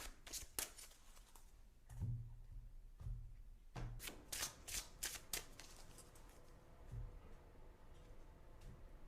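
Tarot and oracle cards being shuffled by hand close up, a run of quick riffling flutters and soft slaps that come in bursts, with no talking.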